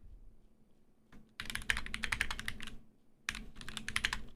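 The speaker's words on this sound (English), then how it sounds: "I get so much joy out of typing on this thing." Fingers type on a computer keyboard in two quick bursts of rapid, crisp clicks separated by a short pause, close and clear with no talking.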